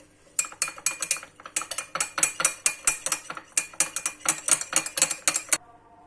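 Lemon juice and olive oil being briskly whisked together for a seasonal salad dressing, a rapid run of sharp, regular metallic clicks of utensil against bowl, close and loud, with a brief pause midway.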